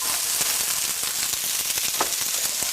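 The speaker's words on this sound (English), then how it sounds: "really all we're doing here is warming up the asparagus since it's already cooked" Chopped steamed asparagus warms in a hot pan, giving a steady close sizzle studded with small crackling pops throughout, with no voices.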